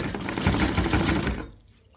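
Sewing machine stitching old denim jeans for a handbag, a fast steady mechanical rattle for about a second and a half that stops abruptly, close and clear.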